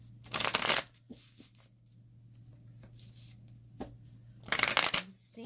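Tarot cards being shuffled by hand in two crisp riffling bursts, one at the start and one near the end, with a quiet room hum and faint handling noises between.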